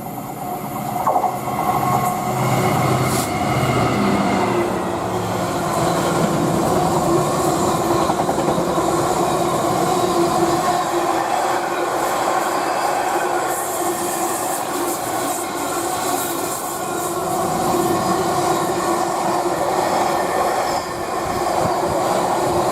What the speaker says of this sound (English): we find a Leeds to Southampton Freightliner 66571 this is